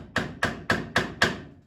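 A hammer strikes a metal tie rod for a toy tractor build five times in an even rhythm, each close, sharp blow ringing briefly before fading into the next, with no talking.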